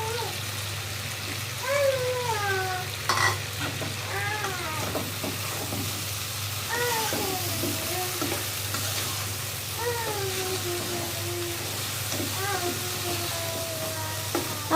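Chicken frying with taro corms in a pan, a steady sizzle with stirring scrapes underneath, close and moderate, with a voice speaking over it at intervals.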